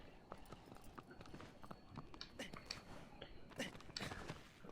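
Quiet, rhythmic clip-clop of horse hooves plodding along at a walking pace in the video game Shadow of the Colossus, faint and steady with a few louder knocks.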